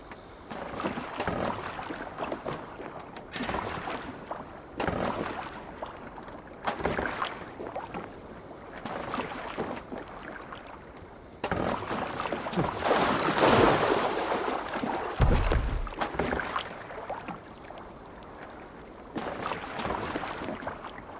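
Repeated swishing oar strokes and lapping water from a Viking boat being steered in Assassin's Creed Valhalla, rhythmic pulls every couple of seconds with a louder splashing surge midway, moderately quiet.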